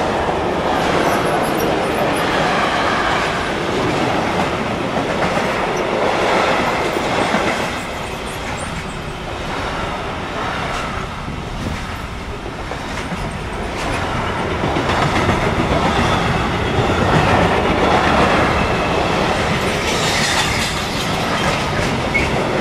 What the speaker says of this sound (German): jetzt filmen wir den Güterzug durch Fahrt in Großkrotzenburg, Leute, da ist er schon